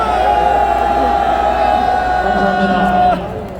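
A large crowd at an outdoor patriotic rally in Gwanghwamun cheers and shouts together in a loud, sustained roar that fades slightly near the end. A steady tone rings under the noise.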